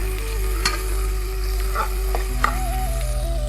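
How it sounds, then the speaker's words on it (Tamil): Green chillies, slit lengthwise, sizzle in hot oil as they are stirred in a pan, with soft clinks from the utensil over a steady low background hum. "3 பச்சை மிளகாய் போட்டுட்டு அதையே நல்லா பரட்டி விடுங்க."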